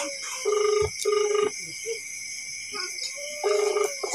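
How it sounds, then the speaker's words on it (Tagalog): A telephone rings in repeated double trills, two close bursts, a pause, then another ring, over a steady hum of room noise. "Nagriring na."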